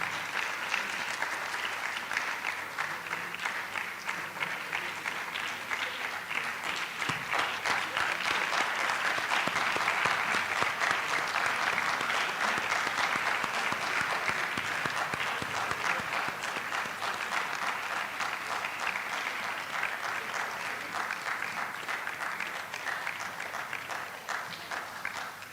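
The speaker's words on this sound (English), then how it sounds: "Please keep clapping till he gets here." At a public lecture and brochure launch, a hall full of people keeps clapping without pause, a dense, even patter that swells slightly toward the middle and then eases off near the end.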